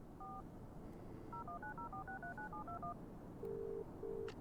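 In the video game Broken Sword: The Sleeping Dragon, a telephone is dialed, with a quick run of DTMF keypad tones followed by two longer ringback beeps over a steady low hum.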